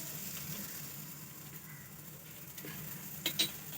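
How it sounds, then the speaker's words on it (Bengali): An aloo paratha fries in oil on a pan, a quiet, steady sizzle with a couple of brief utensil clicks near the end. "আর এক পিঠ আমি ভেজে নিচ্ছি"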